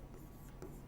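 Writing on a board during a Class 12 biology lesson: faint, close scratching strokes over a steady background hum, without any talking.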